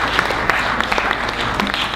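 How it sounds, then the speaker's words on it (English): Dense audience applause rings out at a business meeting on digital marketing, a steady crackle of many hands clapping close and loud with no talking over it. "can we give another big round of applause to Mr. John Rubio for spending the time with us today"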